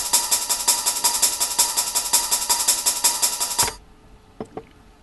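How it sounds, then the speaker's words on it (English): A drum and bass beat built around a ride cymbal sample plays loud and close, with bright metallic ride hits in a quick regular pattern for under four seconds, then cuts off, leaving a couple of faint clicks. "Something which is also important for drum and bass is ride."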